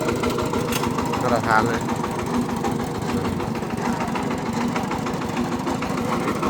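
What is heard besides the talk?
car engine idling with cooling fan running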